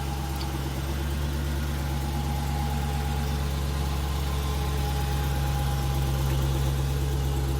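A 2015 Dodge Challenger R/T Scat Pack V8 sits at idle with a steady, deep, low rumble, close and even throughout, with no voices over it.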